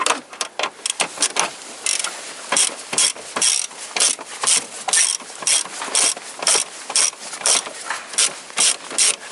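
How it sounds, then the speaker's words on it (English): A ratchet wrench loosens long bolts on the power steering hoses of a 1992–2007 Toyota Corolla, giving loud, close, rapid bursts of clicking pawl ratcheting in a steady back-and-forth rhythm with no talk. "take my wrench, then I start to release these bolts, and in here also."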